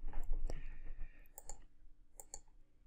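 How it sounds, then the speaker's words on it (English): Computer keyboard typing a part number, a short run of light, crisp key clicks with gaps between bursts, quiet and close under a faint room hiss. "we are going to type STM32L476VG"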